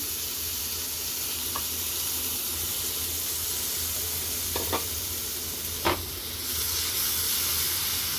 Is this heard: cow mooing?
no